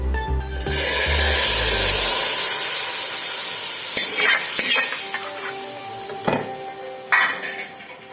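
A loud sizzle bursts out as a hot spiced-oil tempering is poured into kadhi, then settles into softer bubbling hiss with a few clinks of a spoon.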